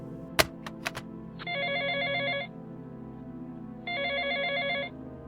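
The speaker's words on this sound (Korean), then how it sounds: "그 순간 전화가 울렸다." A telephone rings in a horror radio drama, two electronic trilling rings separated by a pause, preceded by a few sharp clicks over a low background hum.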